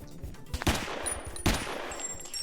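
Gunfire in a Roblox Ohio video game: two sharp, loud shots about a second apart over a quiet game background with faint high electronic tones.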